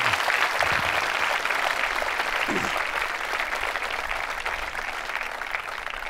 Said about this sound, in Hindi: जोरों से तालियां बजाइए संकल्प के लिए